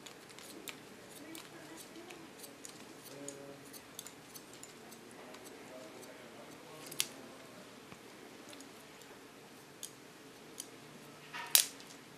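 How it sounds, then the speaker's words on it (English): Hair-cutting scissors snipping a straight line through hair in a salon, giving light, sparse metallic snips and clicks with a few sharper ones, quiet and close over a soft background. "Cut this in one straight line."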